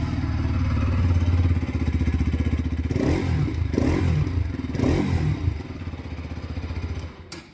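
A 2025 Bajaj Pulsar RS 200 motorcycle idles nearby with a loud, rhythmic thumping exhaust note, broken by three quick throttle blips before the engine settles and fades near the end.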